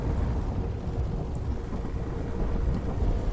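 Steady rain with low thunder rumbling in a mowing game, a continuous even wash of noise with no talk over it.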